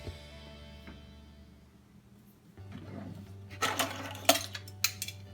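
Cajun butter sauce ingredients being stirred in a bowl, with a few sharp clinks and scrapes of utensil against the bowl in the second half over a steady low hum.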